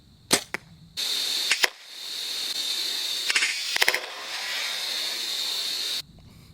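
An archery bow looses arrows at a block target: several sharp snapping releases and thuds, two clusters of quick impacts, over a steady hiss of background, no voices.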